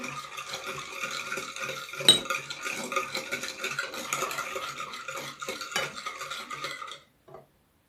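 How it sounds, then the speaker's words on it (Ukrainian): Spoon stirring liquid with salt and honey in a bowl for Turkish simit dough, a steady close scraping and clinking with sharp knocks, no talk, ending abruptly. "Перемішую так, щоб більш-менш сіль і мед трішки розчинилися."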